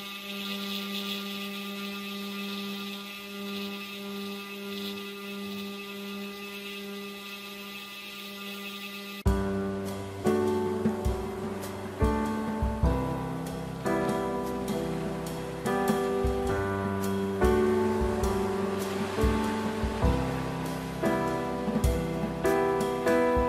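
A Makera Carvera Air CNC with a 25mm long flat end mill roughs a leftover oak cylinder. A steady motor hum comes first, then the spindle cuts in with repeated bursts of chattering and whining.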